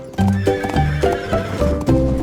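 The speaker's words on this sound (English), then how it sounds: "horses trotted slowly past" A horse whinnies repeatedly in loud, close bursts while hooves clip-clop steadily underneath, no voices present.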